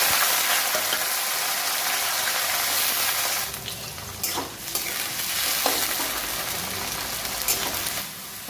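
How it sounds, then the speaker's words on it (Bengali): Bay leaf, dried red chilli and five-spice seeds sizzle in hot mustard oil for a pumpkin curry: a constant close hiss at first, then joined by scraping stirs and light clatters in the pan. "সর্ষের তেল পরিমাণ মতো, তেজপাতা, শুকনো লঙ্কা, 5 ফোড়ন ভেজে নেব।"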